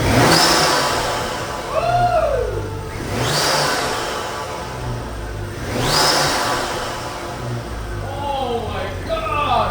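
A cheap BMW's turbocharged engine revs in repeated rising surges, each with a high whistling whoosh, and people talk over it.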